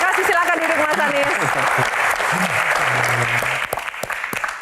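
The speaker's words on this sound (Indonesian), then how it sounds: "Tepuk tangan, terima kasih." Loud audience applause for Anies Baswedan at a Q&A event, heard together with a voice speaking over it and music-like tones, thinning out toward the end.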